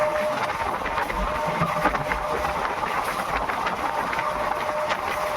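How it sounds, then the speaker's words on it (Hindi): A passing train hauled by a WDG 4G diesel locomotive on a freight corridor, heard as a steady, loud rumbling roar with rattling wheel noise that holds constant throughout. "तो ये रही देखो WDG 4G के साथ निकलती हुई ट्रेन लेफ्ट साइड में"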